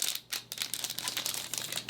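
A small plastic bag holding a makeup foundation brush crinkles and tears open in quick bursts of rustling close up, with no talking.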